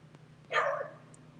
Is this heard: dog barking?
yes